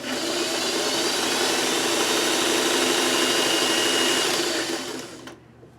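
A sewing machine stitches fabric with a steady, dense motor whir that runs loudly without a break, then cuts off near the end.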